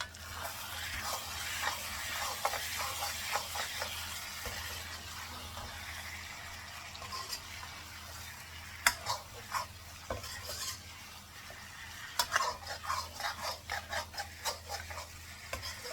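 Mutton karahi with ginger and green chillies stir-fried in a pan: a steady low sizzle under repeated scraping stirs, with bursts of quick metallic strokes toward the end, all close by with no talking.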